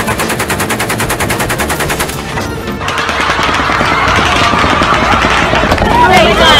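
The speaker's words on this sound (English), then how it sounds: "They're not real gunshots." Simulated machine-gun fire, not real gunshots, in a Vietnam-era shoot-from-the-hip style: rapid, loud repeating bursts for about two seconds, then a dense continuous rattle of fire that carries on to the end.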